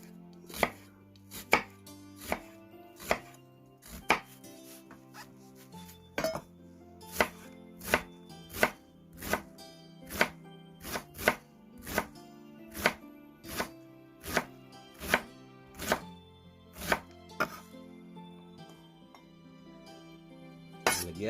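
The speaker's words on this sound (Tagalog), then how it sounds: "Itong sibuyas na pula ay hihiwain natin sa maliliit na cut." A red onion being chopped into small pieces with a knife on a board, producing about twenty crisp, evenly spaced chops in a steady rhythm, close and fairly quiet, with no talking.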